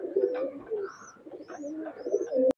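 Teddy single Maya pigeon, a Pakistani highflyer, giving soft repeated coos close by, a few throaty pulses with faint chirps and a sharp click at the end.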